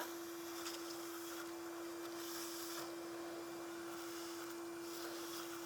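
A bee vacuum set to low suction runs while a spring swarm is collected, giving a faint, steady motor hum with a constant tone and a soft airy hiss throughout.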